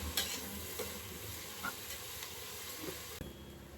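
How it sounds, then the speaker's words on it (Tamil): Onions sautéing with rock salt in a pan for vegetable biryani give a faint, steady sizzle, with soft stirring scrapes and light clicks throughout. "வெங்காயம் வந்து நல்லா கோல்டன் ப்ரௌன் ஆகுற அளவுக்கு வதங்கணும்."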